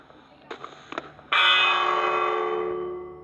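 A single loud bell strike in Minecraft rings out and decays slowly, preceded by a couple of faint metallic taps.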